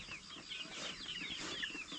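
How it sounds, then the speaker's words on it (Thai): Black-bone chickens raised on a Hmong hill farm in Laos, clucking and chattering softly in a continuous, fairly faint murmur with no talking. "ไก่กระดูดำพี่น้อง"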